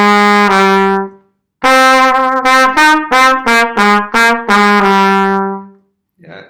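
A riff played on a single sustained, harmonically rich instrument, a loud held note, a pause, then a run of clipped rhythmic notes ending on a long tone.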